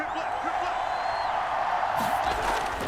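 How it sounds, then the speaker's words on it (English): A stadium crowd roars at a Buccaneers vs Panthers NFL football game, a dense, steady wash of cheering that holds loud throughout, with a play-by-play voice talking over it. "This crowd turning up the decibel level."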